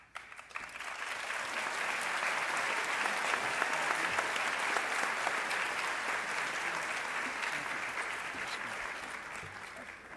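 Audience applause at the 2017 Lebanon High School commencement ceremony: a full, dense crowd clapping that swells quickly and holds steady for about ten seconds before easing slightly at the end.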